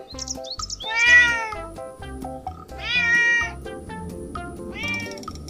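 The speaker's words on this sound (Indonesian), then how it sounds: "lihat ini ada induk kucing." A mother cat meows three times, loud and close, with short clicks and soft background noise between the calls.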